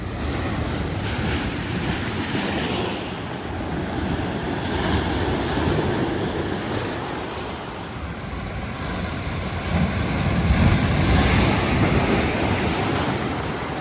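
Ocean surf washing in at Hearst State Beach, California, with the tide coming in; a steady, loud roar of breaking waves continues throughout, swelling near the end, mixed with wind buffeting the microphone.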